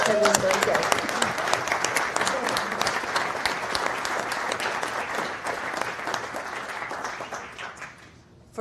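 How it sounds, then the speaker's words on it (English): An audience at a conference event tent gives a sustained round of applause, many hands clapping loudly and evenly before the sound thins and fades out near the end. "let's give a big round of applause to Jeroen, Stephanie, to Robert"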